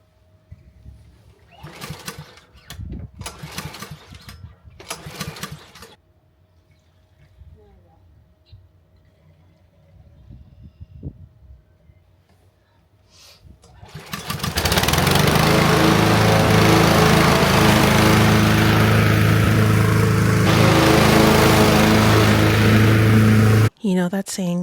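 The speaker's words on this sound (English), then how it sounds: "I also have my lawnmower here because we need to cut the grass." Muffled talking and quiet sounds at first, then a small engine starts and runs loud and steady, a lawn mower cutting long grass in a small yard, droning close by until it cuts off.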